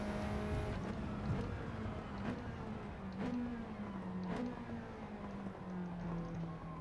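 An Alpine A110 racing on Tokyo Expressway in Gran Turismo 7, its engine droning steadily with pitch rising through the gears and dropping at each shift, repeated several times at a moderate, fairly quiet level.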